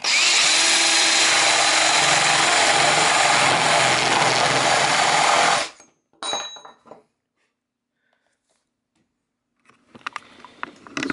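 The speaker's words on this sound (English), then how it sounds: "I'm using a 1¼-inch drill bit, so I measured in 5/8 from the top and from the side." A 1¼-inch drill bit boring into wood, a loud continuous whirring power drill running steadily for several seconds before cutting off abruptly, followed by brief clunks and handling noises, then quiet.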